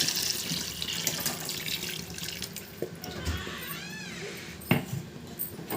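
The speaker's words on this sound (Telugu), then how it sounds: "ఇప్పుడు కొంచెం వాటర్ వేసుకోండి" Water runs and splashes steadily into a pan of eggplant curry at close range, fairly quiet, with a few drips and clinks and faint background noise.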